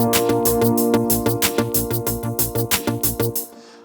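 Pop 21 style playing on a Korg PA5X arranger keyboard, with busy drums, a bright chordal accompaniment and a bouncing bass line in an even rhythm, moderately loud, cutting off cleanly near the end.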